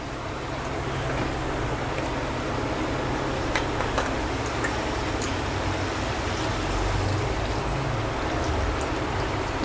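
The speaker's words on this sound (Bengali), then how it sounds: "আমি জল দিয়ে দেবো এবার।" Water pours into a pan of methi chicken in a continuous, even rushing hiss that holds steady for several seconds at close range, with no talk.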